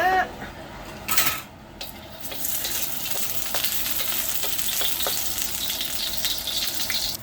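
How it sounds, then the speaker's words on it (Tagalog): Vegetables frying with very salty dried fish from the Philippines in a pan: a steady close sizzle runs throughout, with a few sharp utensil scrapes and taps against the pan early on. "Magluto tayo ng gulay na may dain."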